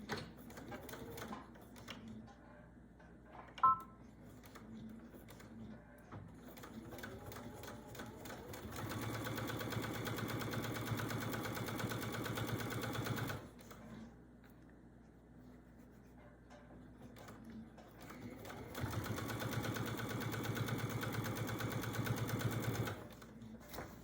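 A sewing machine stitches binding onto a quilt, running in two long steady whirring bursts separated by quiet pauses and a few light handling clicks, with no talking.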